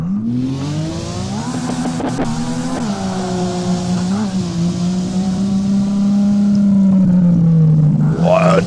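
A car engine in a drift simulator game drones loudly at high revs with rising and falling pitch as the car slides, sustained throughout with a brief screech near the end.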